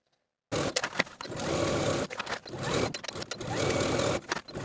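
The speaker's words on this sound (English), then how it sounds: "we're going to take it to the sewing machine and stitch close to this inner fold all the way around" A sewing machine stitches a hem along an inner fold on a peplum top, running in close bursts of rapid whirring with brief pauses between runs.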